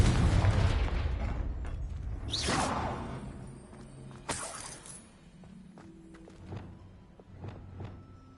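The Confringo blast spell being cast in the Hogwarts Legacy video game: a rushing whoosh leads into a sharp explosive burst near the middle, followed by quieter scattered pops and footsteps fading out.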